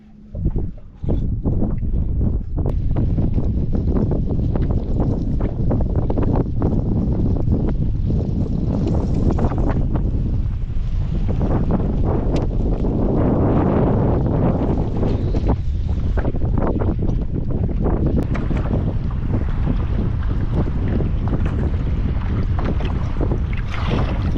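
Strong wind roars against the microphone during a sailboat test on open water, a constant heavy buffeting with gusts swelling and easing, mixed with faint water rush and hull noise, no voices.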